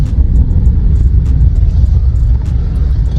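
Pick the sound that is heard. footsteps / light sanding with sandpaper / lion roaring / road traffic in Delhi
road traffic in Delhi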